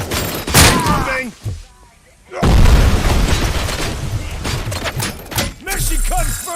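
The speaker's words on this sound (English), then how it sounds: "Throwing frag!" Frag grenade blasts in a RoboCop Rogue City firefight on PS5, loud booming explosions with gunfire bursts, a short near-silent gap, then more blasts and shots under shouted callouts.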